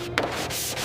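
Steel on an abandoned, fire-damaged Lamborghini is sanded to strip rust and oxidation, giving a close, steady abrasive rasp in short strokes.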